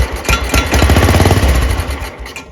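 A 1967 Wheel Horse Super 12 garden tractor engine catching and settling into a steady, fairly even running chatter after being cranked, loud and close with a rapid repetitive pulse and no talk.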